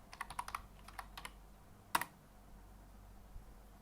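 Keys clatter on a computer keyboard while entering values in AutoCAD: a quick cluster of light taps, a short pause, then a sharper double click and one faint final keystroke, close and quiet.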